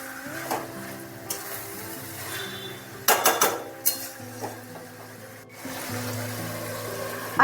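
A lid is set over a pan of hilsa fish head and eggplant chachchari on a gas stove. There is a short cluster of close metallic clatter midway, with light kitchen clinks before and after and background music throughout.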